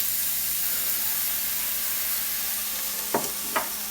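Steak searing in a scalding hot pan, with a steady close sizzle and hiss throughout and two brief squeaky scrapes near the end.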